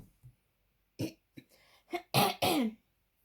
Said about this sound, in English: So I'm so sorry for coughing